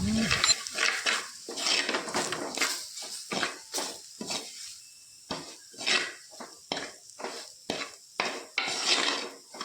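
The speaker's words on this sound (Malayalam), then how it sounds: "മല്ലിപ്പൊടിയും കൂടി ചേർത്ത് വീണ്ടും മസാലകളൊക്കെ ഒന്ന് നന്നായി വരട്ടിയെടുക്കുന്നുണ്ട്" A metal spoon scrapes and clatters against a pan in quick, repeated stirring strokes, close up and fairly loud, frying spice paste with coriander powder for fish curry.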